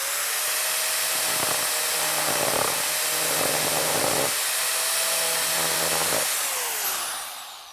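A handheld power carving tool cuts into wood with a high, steady motor whine. The grinding rasp swells in several bursts as the bit bites in, and the tool winds down at the end.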